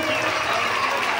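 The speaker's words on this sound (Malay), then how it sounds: "Tepukan untuk Abang Azam." Children applauding together in a group session, a brief dense burst of clapping heard up close and loud.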